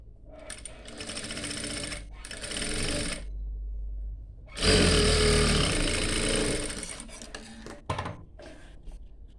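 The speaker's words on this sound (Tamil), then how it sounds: "அந்த வளைவிலே நம்ம வந்து ஸ்டிச் பண்ணணும்" A tailoring sewing machine stitches fabric along a curved seam, whirring loudly and rapidly in long runs. It stops once for about a second, then starts again with a sharp, heavy burst up close.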